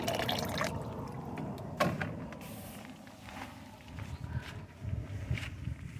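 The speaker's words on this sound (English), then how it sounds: "I'm going to pour it all in there." Warm water poured from a container into a vessel for a shower outdoors in the desert, a faint uneven splashing and gurgling with a few knocks, close and quiet.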